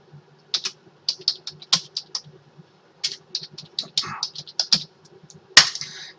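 Rapid bursts of typing on a computer keyboard, clustered clacks with short pauses between runs and one sharper keystroke near the end, close and clear with a low background hum.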